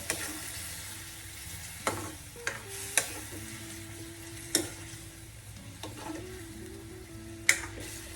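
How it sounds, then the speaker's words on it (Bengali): Cauliflower curry gravy stir-fried in a pan with a steady sizzle, a spoon scraping and clinking against the pan at irregular moments, close and moderately loud, with no talking. "এরপর ভালো করে গ্রেভিটাকে কষবো।"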